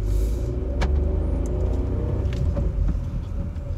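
A Skoda Slavia with a 1.0-litre engine accelerates from a clutch release, heard from inside the cabin as a loud rising engine drone and rumble with a few brief clicks and no talk.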